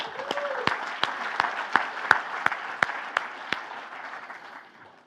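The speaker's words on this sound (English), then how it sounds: "give it a round of applause to Ashley" Audience round of applause at a finance society gathering in Hong Kong, a moderate, fairly sparse patter of clapping with a few sharp individual claps standing out, tapering off toward the end.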